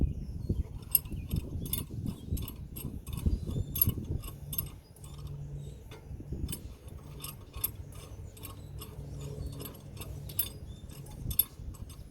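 A C-clamp is slowly screwed in to compress the piston of a rear brake caliper on a 2013 Nissan Rogue, giving close, rhythmic ratcheting clicks and metallic ticks over a low rumble.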